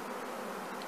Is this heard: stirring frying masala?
no